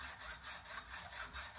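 A hand saw cuts an inch off a metal drill extender, giving steady back-and-forth rasping strokes, about five even passes in quick rhythm, close and continuous with no talk.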